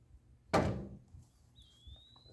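A single heavy wooden thunk comes from a 2x4 board mounted on door hinges as it is lifted in a steel-bending setup, followed by a fading rumble and a thin high squeak.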